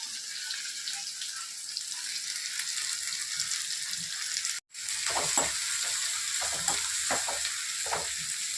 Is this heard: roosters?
no